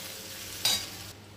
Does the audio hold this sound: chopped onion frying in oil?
yes